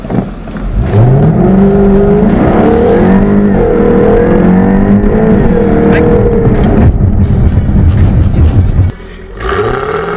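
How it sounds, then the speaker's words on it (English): A Jaguar F-Type supercar accelerates hard on a road in Pune, India, its engine roaring loud and close with rising revs through several gear changes before dropping off briefly and then surging again. "So guys, drive the F-Type now."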